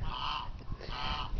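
A goose honks twice, close and fairly faint, each call a short nasal blare with a brief gap between.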